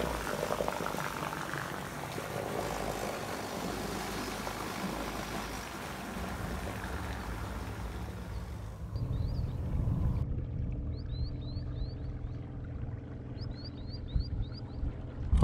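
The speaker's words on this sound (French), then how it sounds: "le monsieur nous amène avec le moteur électrique de secours" Boat pushed along on its electric backup motor after the main engine fails to start, a steady low churning hum with water noise throughout; brief birdlike chirps appear in the second half.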